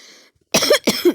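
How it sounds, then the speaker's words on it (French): Two sharp, close coughs from one person come in quick succession after a short silence, preceded by a faint tonal game sound. "C'est juste un peu une toux."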